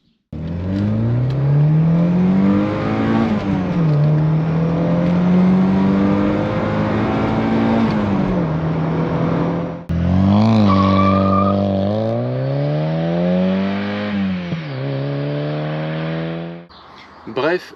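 A Volkswagen Scirocco II GTX 16V engine from 1987, a 139 hp unit, revs up and down through rising and falling sweeps close by, singing toward high rpm, with a brief break midway.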